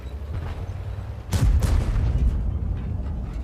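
Tank cannon shots from a Skoda T-25 medium tank in World of Tanks: a loud booming shot cracks out partway through, quickly followed by a second blast, over a steady low engine rumble.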